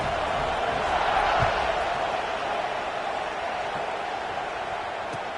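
A stadium crowd at a college football game sends up a broad, steady roar after a touchdown drive, a distant, even wash of cheering that continues throughout.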